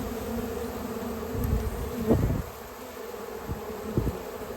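A honeybee swarm drones in a steady, close buzz during capture, with a few soft knocks and handling thumps over the hum.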